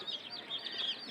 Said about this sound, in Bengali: আর এটি ককের বাচ্চা